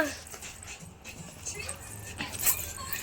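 A puppy whimpers and yips softly in short bursts while people talk nearby.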